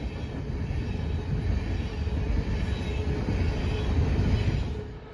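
A BNSF westbound empty coal train rolls past the Osceola depot heading back to the mine, a steady low rumble of wheels and cars that swells slightly before easing off near the end.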